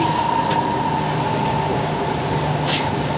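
MRT metro train riding the rails from Lakeside to Boon Lay, a steady rumbling hum inside the carriage with a faint hiss or squeal rising briefly near the end.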